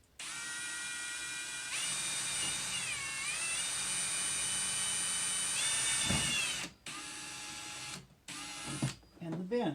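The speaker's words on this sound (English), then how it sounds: "using 3/16 drill bit, drill into both the box" A drill with a 3/16 bit bores into a Milwaukee Packout compact toolbox and bin, giving a whining motor pitch that rises and dips under load for several seconds, then stops with short bursts and handling noise; a voice talks.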